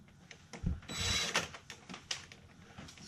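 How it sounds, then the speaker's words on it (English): Screws backed out of a basement window frame packed with spray foam insulation. Close mechanical whirring and ratcheting comes in short bursts with a louder stretch in the middle, and clicks follow. "Alright, let's take these screws out and see what happens."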